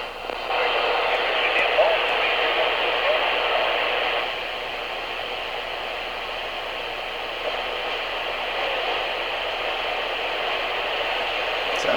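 A CB radio with a Radioddity CBL 561 antenna hisses with steady broadband static, louder for the first four seconds and then settling to a constant even rush with no clear voices.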